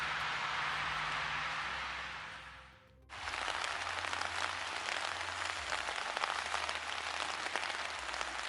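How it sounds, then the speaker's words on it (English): Rain falling outdoors at a South Carolina witch's grave, a steady broadband patter that shifts after a brief dip into a denser, rougher hiss of drops hitting nearby surfaces, fairly faint with no voices. "the rain's beginning to pick up"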